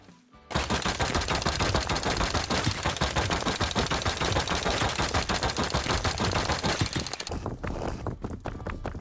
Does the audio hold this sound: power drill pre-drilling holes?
no